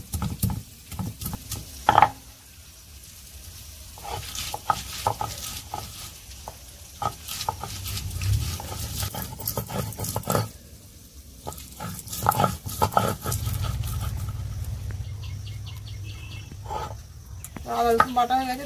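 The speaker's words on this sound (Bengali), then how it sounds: "আদা রসুন পিষে নিচ্ছি একসাথে।" Ginger and garlic are ground together with salt by hand for a kuche (eel) fish curry: repeated close scraping and knocking strokes in an uneven rhythm, with a voice speaking now and then.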